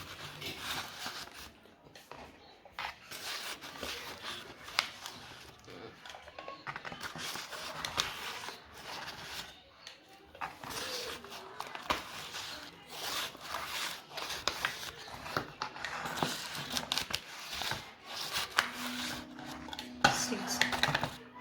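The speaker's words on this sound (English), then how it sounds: "We are going to add 6 teaspoons of baking powder." A metal teaspoon scoops baking powder into a mixing bowl for light, fluffy scones: repeated close clinks and scrapes against the bowl, several measured spoonfuls in a row.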